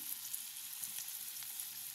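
Chopped onion fries in a pan over very low heat, a steady, soft sizzle with fine crackling throughout, fairly quiet and with no voices.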